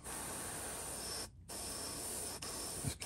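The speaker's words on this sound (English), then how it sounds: "I'm just going to spray some on it." A paint spray gun hisses steadily while spraying carbon black paint on a custom paint job, a loud, close, continuous spray broken by one brief pause and a short gap near the end.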